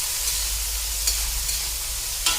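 Mung beans sauté with a constant hiss and sizzle in a hot pan, broken by a few sharp scraping stirs, close and alone without talk.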